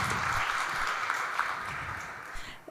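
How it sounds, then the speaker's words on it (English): Audience applause at the S+T+ARTS Day arts and technology conference, a steady wash of clapping from a crowded hall that holds evenly for nearly three seconds and starts to thin at the end. "Please give an applause for Francesca."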